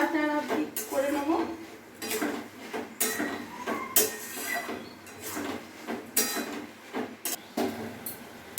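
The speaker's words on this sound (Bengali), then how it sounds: "এবার আমি ভালো করে নাড়াচাড়া করে নেব" Bottle gourd and prawn curry being stirred in a pan, with repeated clanks and scrapes of a spoon against metal coming in an uneven rhythm, close by and fairly loud, while someone talks over the cooking.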